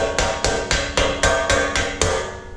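Hammer blows nailing a toolbox end to the bottom, eight sharp, evenly paced ringing strikes in quick succession, loud and close, with no talking.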